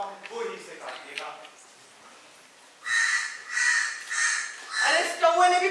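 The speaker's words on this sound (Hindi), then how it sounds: "अरे इस कौवे ने भी परेशान करके रख दिया है।" Crow caws used as a sound effect in a children's school play staged by a public school in Shimla, several loud harsh calls in bursts after a brief stretch of talk on stage.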